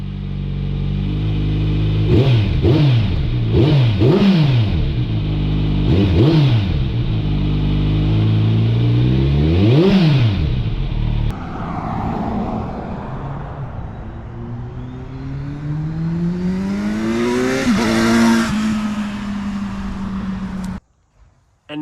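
A 2023 Kawasaki Z900 fitted with an SC Project CR-T slip-on exhaust revs repeatedly, several sharp throttle blips rising and falling, then a longer climbing rev near the end, loud and close with no talk.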